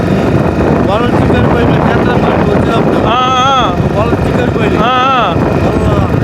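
Loud gusting wind roars against the microphone with surging sea noise beneath, at the coast by Gullalamoda lighthouse in Krishna district, Andhra Pradesh, while someone talks over it.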